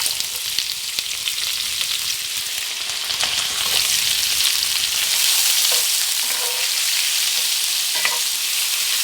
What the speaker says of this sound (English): And then I'm going to add 2 large onions that I've sliced.